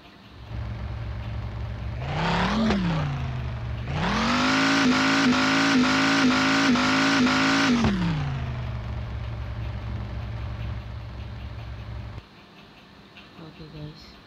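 Car engine revving in Car Parking 3D game, a steady idle that rises in two surges, the longer one held high and rough before dropping back to idle, then cutting off near the end.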